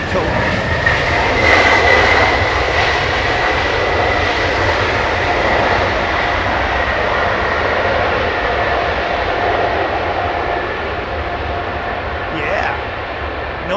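Engines of a Swiss Airbus A220 airliner give a loud, steady broadband roar that holds for the whole stretch, fading only slightly toward the end.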